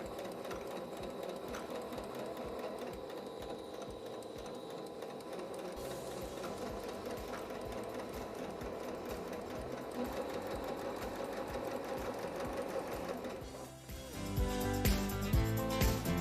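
A sewing machine runs steadily, stitching around the curve of a cotton pocket bag for a shirred dress, with a continuous whirring hum and rapid needle clatter that grows a little louder near the end.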